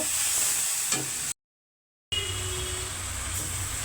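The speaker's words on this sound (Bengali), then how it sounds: "এখন চুলাতে দিয়ে দিচ্ছি আদা রসুন বাটা আর মরিচ হলুদ" Ginger-garlic paste with chili and turmeric fries in a pan on the stove, giving a steady close sizzle and hiss with a brief stir, interrupted by a short silent gap before the sizzling resumes.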